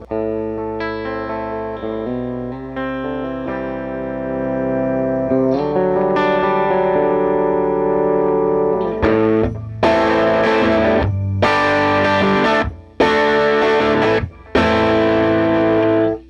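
Electric guitar played through an amp, warm and slightly driven, a melodic line followed by loud strummed chords with short pauses between them.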